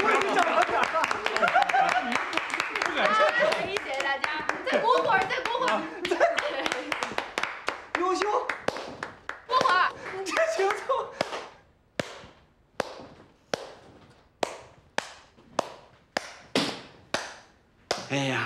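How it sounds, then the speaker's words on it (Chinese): A handful of people clap in scattered, uneven bursts, first under lively talk and laughter, then alone as sharp, separate claps for the last several seconds. "持续鼓掌50分钟"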